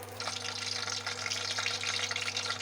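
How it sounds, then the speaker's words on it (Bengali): Cabbage pakoras fry in hot oil, giving a steady, close, crackling sizzle that holds at an even level from start to finish over a low constant hum, with no voices. "তেল গরম করে নিয়েছি, এবার দিয়ে দেব পকোড়াগুলো।"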